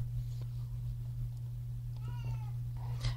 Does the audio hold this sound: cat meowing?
yes